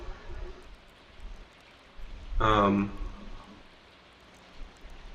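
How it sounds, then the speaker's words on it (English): Soft, steady rain patters in the Stardew Valley farming game, a gentle continuous hiss at low volume, with a voice talking briefly over it midway. "It is raining today, so maybe we'll either do fishing or we'll run to the mine."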